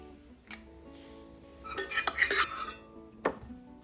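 Roasted dry fruits, cashews and coconut being scooped from a kadhai into a bowl, metal spoon clinks and scrapes against the pan and dish, a busy cluster of clatter in the middle with single knocks before and after.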